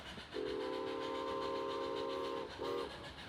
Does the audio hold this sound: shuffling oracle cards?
no